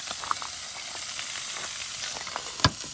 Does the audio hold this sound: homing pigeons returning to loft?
no